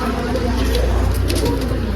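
Pigeons coo softly and repeatedly close by, over a steady low hum with faint talking in the background.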